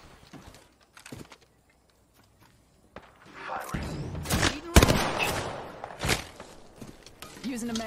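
Gunfire in the Apex Legends game: after scattered quiet shots, a dense burst of rapid automatic fire and impacts erupts midway, loud and close, with footsteps and game voice lines around it.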